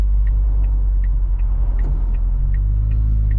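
A turbocharged Ford Fiesta ST 150 fitted with a turbo kit pulls hard under acceleration, its engine a deep, loud, steady rumble heard from inside the car.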